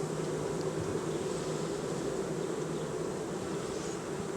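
Dense, steady buzzing of a honeybee colony during a hive frame inspection, continuous and close, with no voices.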